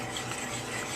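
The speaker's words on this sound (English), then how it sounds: "Stir." A spoon stirs thick Alfredo sauce mixed with sour cream, giving a soft, steady scraping and squelching close by for about a second, with no talking.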